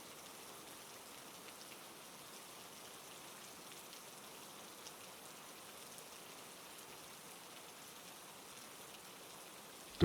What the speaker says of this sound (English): The rain began before dawn, heavy, unrelenting